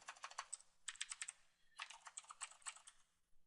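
A computer keyboard clatters close but quietly while someone codes, in quick bursts of keystrokes with a short pause between them and no talking.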